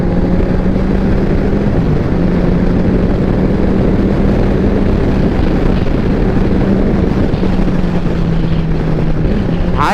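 A Kawasaki Ninja 1000 superbike drones steadily at speed on a monsoon ride, its engine hum buried under heavy, constant wind roar against the microphone for the whole stretch.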